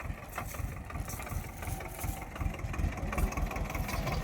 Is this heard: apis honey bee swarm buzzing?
no